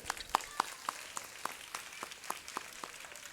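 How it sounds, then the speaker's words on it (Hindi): Light, scattered clapping from a small group at a religious discourse gathering, quiet and fairly distant, with irregular claps over a soft background. "एक बार हमारे शंकरी भैया के लिए जोरदार तालियां हो जाए आपकी।"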